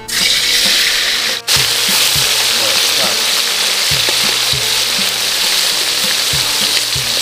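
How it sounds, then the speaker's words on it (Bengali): Small snake-like kuche fish frying in hot oil in a wok, a loud, dense crackling sizzle throughout with a brief break near the start, steady rhythmic low thumps underneath, close and unaccompanied by speech. "এবার মাছগুলো ভাজার জন্য কড়াইতে তেলটা দিয়ে দিচ্ছি গরম করার জন্য"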